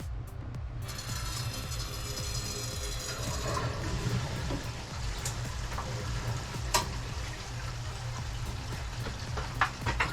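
Water rushing through newly installed PEX plumbing to a shed after a valve is opened, a steady hiss and flow that keeps going throughout, with a few scattered knocks and clicks.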